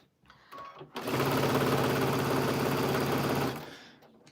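A sewing machine stitches a quilting seam in one continuous burst of about two and a half seconds, a close, loud, rapid mechanical whir that starts abruptly and then winds down.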